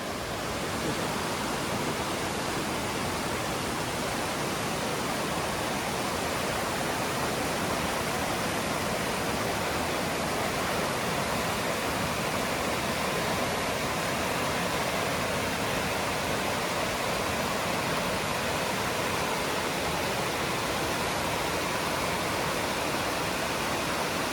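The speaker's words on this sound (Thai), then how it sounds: "นี่คือน้ำตกตาดโตน" Tad Ton waterfall in Thailand roars steadily as a dense, broadband rush of falling water, loud and continuous throughout with no break or change in intensity.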